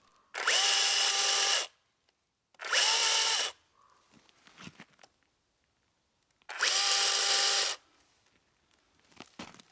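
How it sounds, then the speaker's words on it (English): A chainsaw cuts a small notch at the top of a felled tree trunk being prepared for a shelter, in three loud, close bursts of about a second each, with quiet gaps and faint knocks between them. "I cut a small notch at the top with my chainsaw"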